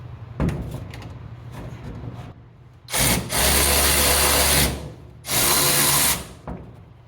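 Power tool spinning bolts out of a 152 Comanche engine on a 1963 International Scout, two loud buzzing whirs of a second or more each, preceded by softer clicks and clanks of metal handling.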